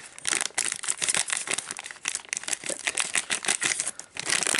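A McDonald's Pokémon Froakie toy has its plastic packaging crinkled and torn open close by, a busy run of rustling, crackling bursts that lasts several seconds with no talking.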